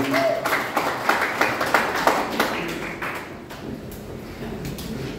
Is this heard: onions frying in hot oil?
no